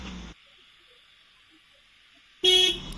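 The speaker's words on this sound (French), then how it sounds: "Il me fonce dedans, mais il me klaxonne, le mec." A truck horn blasts twice, a short honk and then a longer loud one, with a sustained tone between them, heard from inside a van on a road in Montenegro.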